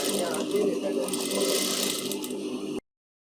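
A sewing machine runs steadily as it stitches around a mango-shaped panel on a blouse. The fast, even whirring lasts nearly three seconds and then stops abruptly.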